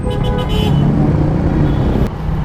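Heavy road traffic on Gov Fortunato in Muson, with car horns tooting in short bursts over a steady close engine rumble, the noise easing slightly near the end.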